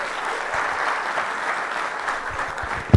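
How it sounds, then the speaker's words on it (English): An audience at a university management communication session applauds continuously, a dense, even wash of clapping that holds steady throughout and ends with a sharp knock. "a big round of applause, Professor"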